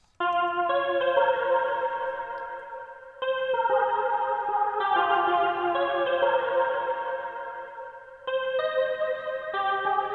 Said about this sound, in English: And this is Ethera 6 guitar.